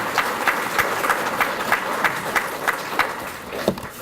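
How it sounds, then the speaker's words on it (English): Applause at a memorial banquet honoring a guest, a steady patter of clapping from a modest crowd at moderate distance, with a few sharper individual claps standing out through the four seconds. "let's give him another round of applause for being with us today"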